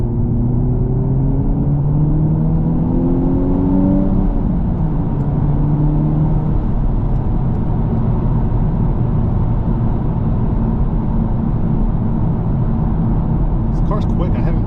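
A Honda Civic Type R accelerates hard in sport mode, its engine rising steadily in pitch through the gears as a loud continuous drone with road and wind roar filling the cabin.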